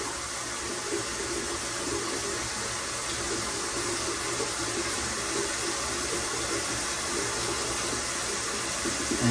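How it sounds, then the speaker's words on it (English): Water runs steadily and splashes at a bathroom sink for the whole stretch as a wet rag is rinsed and squeezed out, a continuous close hiss with small rising surges near the end. "Squeezing the rag, getting all the stuff out."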